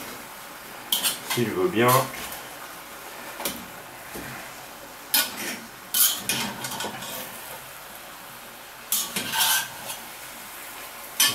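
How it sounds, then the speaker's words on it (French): Beef bourguignon with butter stirred in a pot, a utensil scraping and clinking against the metal in short irregular bursts, with a brief spoken phrase partway through. "Maintenant, remuer tout ça un petit peu. Que le beurre il aille dans le fond"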